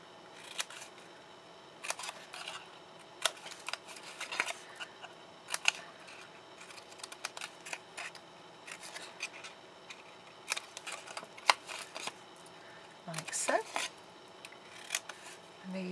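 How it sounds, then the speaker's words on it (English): Stampin' Up paper snips cut paper in repeated short crisp snips, scattered through the clip close to the microphone, with a person talking briefly between cuts. "Then you're going to need to get your paper snips out, and we're going to cut away on all four sides, those outer three squares."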